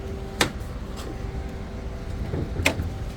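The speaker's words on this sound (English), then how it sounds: "Okay, so we're actually going to get in the car and pop the hood." Inside a 2006 Chevy Equinox with a 3.4 engine, the hood release is pulled, giving two sharp, close clunks a couple of seconds apart over a quiet background.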